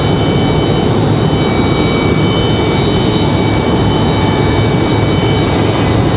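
An airliner carries out a go-around at Raleigh-Durham International Airport, its jet engines a loud, steady broadband roar that holds unbroken for the whole stretch with no voices.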